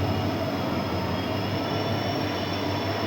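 A WDG4D diesel locomotive hauling the Rajkot-Porbandar Express, heard as a steady, loud rumble of running train and rolling wagons with a constant low engine drone and faint wheel hiss.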